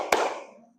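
A group claps once in unison for an Asmaul Husna clapping song in a classroom setting, a single sharp clap that rings out and fades in the room.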